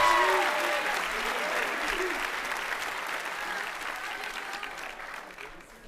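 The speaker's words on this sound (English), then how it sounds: "Let's give another round of applause for Dorothy and Jacob and all of our award winners" Sustained applause from a large audience at an academy commencement ceremony, a dense wash of many hands clapping that starts loud and slowly tapers, with faint voices mixed in.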